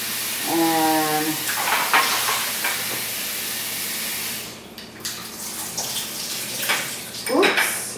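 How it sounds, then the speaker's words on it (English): Artichokes being rinsed under a running kitchen tap while cooking artichoke pasta: a steady rush of water with splashing and handling noises, close and fairly loud, briefly easing off partway before splashing resumes. "Let me rinse these artichokes."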